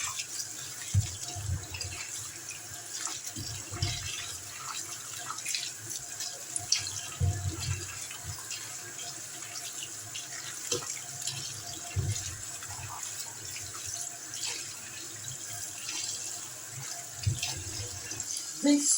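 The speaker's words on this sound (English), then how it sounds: "So now I'm rinsing." Tap water runs steadily into a kitchen sink while tomatoes are rinsed, a continuous hissing splash with small bumps and clatter from handling, fairly quiet.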